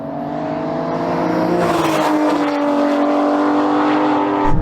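Aston Martin Valkyrie, Vanquish and V12 Vantage accelerating hard in a drag race, a loud sustained engine roar with rising revs and gear changes, close and continuous.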